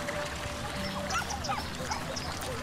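Ducks quacking in a zoo area of the Cities: Skylines city-building game, several short nasal quacks and honks repeating over a busy ambient game background.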